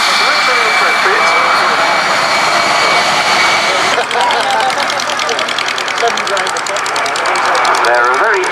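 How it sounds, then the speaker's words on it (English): Gloster Meteor T.7, the RAF's two-seat jet trainer, running its engines at a Duxford VE Day airshow, a loud sustained jet roar and whine throughout, with an announcer talking over it on a public address. "the Meteor T.7 has now started"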